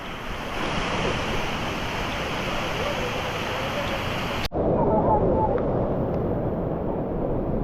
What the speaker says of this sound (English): Waterfalls in Colombia.